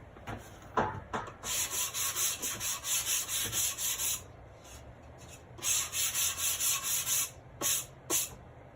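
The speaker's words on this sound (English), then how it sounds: "This is just a little sanding disc." Rhythmic back-and-forth rasping of a small sanding disc on wood edges, in two bursts of quick even strokes separated by a pause, close and fairly quiet.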